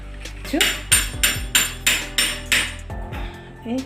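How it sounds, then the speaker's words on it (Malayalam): A knife chops spinach leaves on a board in a home kitchen, about eight sharp, evenly spaced strokes, close and fairly loud, with faint talk at the start and end. "ഞാൻ ഈ ചീരല ഒന്ന് അരിഞ്ഞു കൊണ്ടുവരാം"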